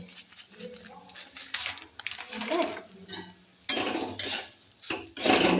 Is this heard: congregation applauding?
no